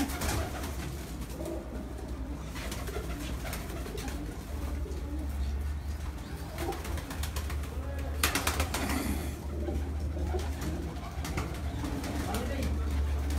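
Pigeons coo steadily on a rooftop, soft repeated throaty calls from several birds with occasional wing flutters, over a constant low background hum and some people talking.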